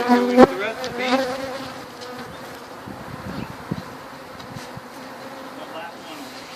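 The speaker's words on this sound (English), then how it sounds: "Here we go with the rest of the bees." A dense swarm of bees in a hive box hums and buzzes close by during a bee removal, steady and continuous, with a few knocks and brief sounds over it.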